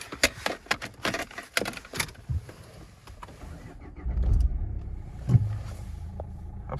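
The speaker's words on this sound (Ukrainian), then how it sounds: "Двигун запускається чудово." A 2011 Renault Megane automatic with a 1.5-litre diesel engine is heard: a few close clicks and knocks come first, then the engine cranks and catches. It settles into a steady low running note that fills the rest of the clip.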